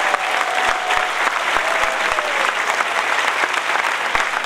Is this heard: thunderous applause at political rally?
yes